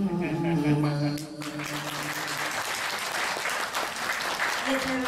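Audience applause breaks out at a Thai stage performance, a dense wash of clapping that starts after a second of speech and continues steadily to the end, with a voice talking over it near the close.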